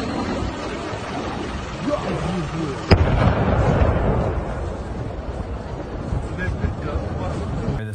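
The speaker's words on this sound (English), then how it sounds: "This is allegedly a missile that struck the airport again in Ukraine." A missile strike on the airport in Kyiv, Ukraine, lands as one sharp distant blast with a rumbling tail, amid continuous outdoor noise and people talking nearby.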